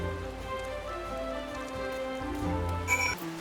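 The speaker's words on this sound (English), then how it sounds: "Ah, the rain. I must use my umbrella." Steady rain falls in Final Fantasy XIV, a soft wash that sits underneath sustained, tonal game music.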